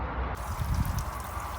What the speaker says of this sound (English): since I pulled that hose out, radiator fluid's coming out